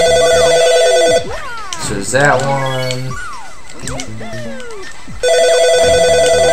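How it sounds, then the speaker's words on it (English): A mobile phone ringtone trills in repeated bursts at the start and again near the end, loud and close, while someone talks over the gap between rings during a Super Mario Galaxy 2 play session. "my phone is ringing"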